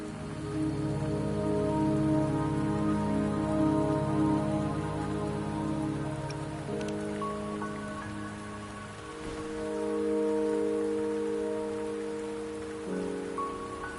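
Steady rain patters on surfaces in the video game Wuthering Waves, a continuous hiss of drops that plays under layered background music, with no voices.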